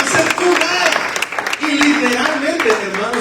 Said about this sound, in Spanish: Déjale un aplauso al Señor.